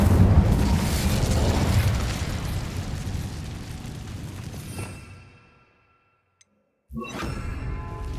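Incendio fire spell cast in Hogwarts Legacy: a loud roaring burst of flame that rumbles for several seconds, fades to near silence, then a fresh blast kicks in sharply.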